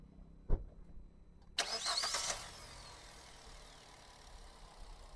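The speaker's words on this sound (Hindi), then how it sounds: "ये इंजन चालू हो चुका है।" A 2025 Hyundai i20 Sportz petrol engine cranks and catches with a loud burst, then settles into a quiet, steady idle, recorded alone with a brief knock just before the start.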